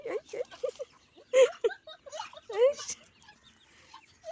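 Chickens cluck in short bursts close by as they are fed, while people talk over them, with a few louder squawks in between.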